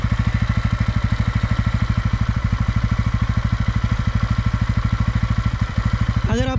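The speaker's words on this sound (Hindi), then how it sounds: "अभी मैंने बाइक स्टार्ट कर दी है तो इसका जो एग्जॉस्ट का साउंड है थोड़ा ज़्यादा है" A TVS Ronin 225 motorcycle engine idles steadily with a rapid, even exhaust putter throughout, close and fairly loud.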